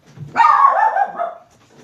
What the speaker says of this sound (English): we are very sorry about the barking dog